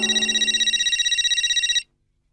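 A telephone rings in a comedic household scene, a rapid trilling electronic bell pulsing steadily for almost two seconds, loud and close, then cutting off abruptly into silence.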